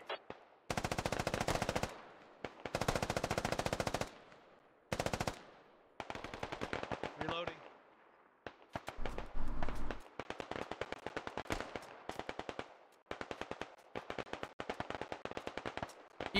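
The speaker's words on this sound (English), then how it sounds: "they are just laying down the fire into these buildings, not going to allow the British to peek anything" Long rattling bursts of machine gun fire in a military video game, hammering into buildings in rapid automatic volleys with short pauses between, loud and close, one burst punctuated by a deep thud.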